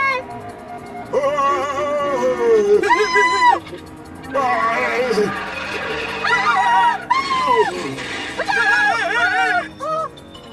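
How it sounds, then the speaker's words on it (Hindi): Someone in the Ninja Hattori cartoon screams in long, shrill, wavering bursts, loud and close, broken by short pauses with other cartoon voices and noise mixed in. "ये कौन चिल्ला रहा है?"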